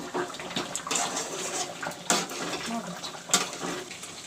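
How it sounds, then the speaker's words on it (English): Chicken frying with masala in a curry pan: a steady soft sizzle and bubbling, broken by a few sharp clinks of a spoon or spatula stirring against the pot. "Now the chicken is being fried along with the masala."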